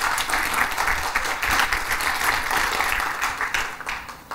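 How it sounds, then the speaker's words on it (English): Steady, full audience applause follows the introduction of a speaker at a talk on the Wagtail CMS, a dense even clapping that holds for several seconds before tapering slightly at the end. "Big round of applause for Eloise Macdonald-Meyer."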